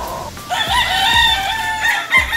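A young April-born stag rooster crows once, a loud, close, strained call with a rising onset and held harmonic tone, amid a few soft background thumps.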